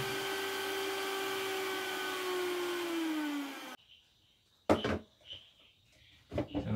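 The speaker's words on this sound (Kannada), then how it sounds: "ಈ ತಿರುಳನ್ನು ಚೆನ್ನಾಗಿ ಗ್ರೈಂಡ್ ಮಾಡುವ ನಾವು, ಅದು ನೊಂಪಾಗಬೇಕು" A kitchen mixer grinder purees pink passion fruit pulp with a steady whirring motor drone that slowly drops in pitch, then cuts off abruptly. A few clatters and knocks follow, as if the jar is being handled.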